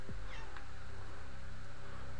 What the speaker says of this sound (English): my kitty's meowing at me